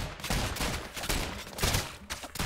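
Rapid gunfire from the arena shooter ROUNDS, a dense, continuous crackle of shots filling the whole stretch at close range, with no talk over it.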